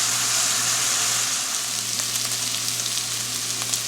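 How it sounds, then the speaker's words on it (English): Holy Trinity vegetables and smoked sausage sauté in a Dutch oven for Louisiana jambalaya, making a loud, continuous close-up sizzle with light crackles and occasional stirring scrapes. "now we're sauteing our Holy Trinity and our sausage"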